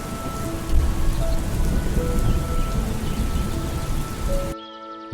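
Heavy rain pours steadily and loudly, a dense close hiss of drops, breaking off abruptly near the end.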